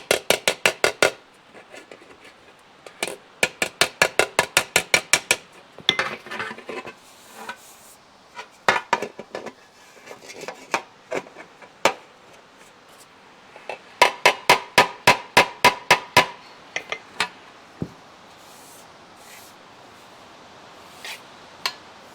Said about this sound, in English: Just do a little old-fashioned hammer and dolly work here.